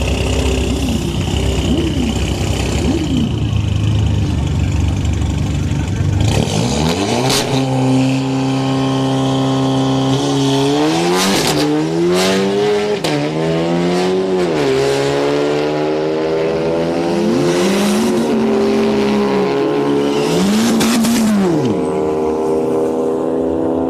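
A Golf GTI and a Scat Pack or Trans Am drag racing at a street night event, engines revving loudly through rising and falling gear-change sweeps, alongside crowd and track noise with no clear talk.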